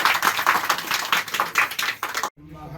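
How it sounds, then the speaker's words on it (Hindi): A crowd claps for a guru at a Shatchandi Mahayagya religious gathering in Vaishali. The applause is loud and brisk for about two seconds, then cuts off abruptly. "एक बार जोरदार तालियां गुरु जी को"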